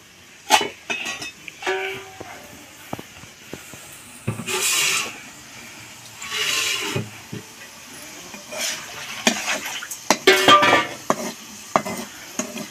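Cut potatoes being washed by hand in a pot of water in a home kitchen, with intermittent splashing, sloshing and clinks of pieces against the metal vessel in uneven bursts, close and moderately loud, with no talking.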